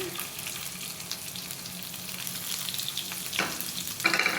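Chopped onions fry in a pan with a steady, close sizzle, and a few stirring scrapes come near the end.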